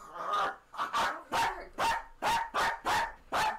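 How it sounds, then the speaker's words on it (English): A dog barks close and loud, eight sharp barks in a fairly steady rhythm with short gaps between them. "Don't bark at the child."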